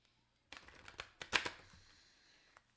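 Tarot cards being shuffled by hand, a quiet close burst of quick papery flutters and snaps lasting about two seconds after a brief silence, with no talking.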